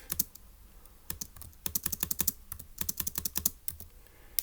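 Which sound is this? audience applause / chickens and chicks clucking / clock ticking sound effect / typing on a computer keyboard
typing on a computer keyboard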